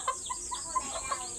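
Backyard native chickens cluck softly and faintly, with several short, evenly spaced calls over a quiet, hissy background.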